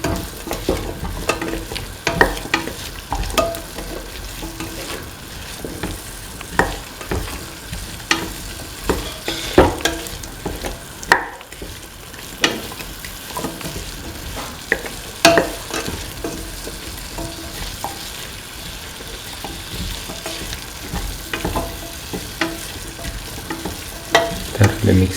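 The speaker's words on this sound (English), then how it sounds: "Thoroughly mixing the mixture spices with the rest of the mixture." Spice mixture being stirred with pumpkin and ivy gourd in a hot pan: steady sizzling frying broken by repeated sharp scrapes and clinks of the spoon against the pan, close and continuous, no talking.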